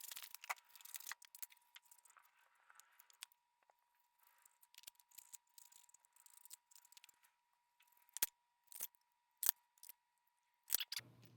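Scissors snip through black paper traced around a template, quiet close-up cutting strokes with irregular pauses and a few sharper, louder snips near the end, no voices.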